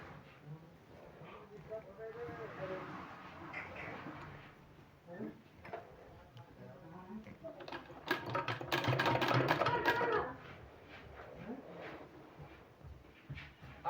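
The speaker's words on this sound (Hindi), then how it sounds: "अब इसको इस तरह से हमको सिलाई करना है।" A sewing machine runs in short bursts while stitching fabric pieces for a palazzo pant design, with a longer stretch of stitching near the end and someone talking over it.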